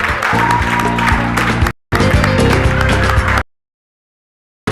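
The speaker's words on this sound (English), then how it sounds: "Please, let's give them a round of applause." An audience at the Brand Africa 2022 awards in Lesotho applauds loudly in dense bursts of clapping, broken by two abrupt silences.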